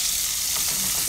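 Alexandrian sausage frying in oil makes a loud, close, continuous sizzle, with a brief stirring scrape partway through.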